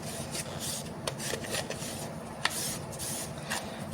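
A cotton pad soaked in hand sanitizer is rubbed over a small tray, giving soft, close scratchy swipes in a steady back-and-forth rhythm, faint and with no one speaking.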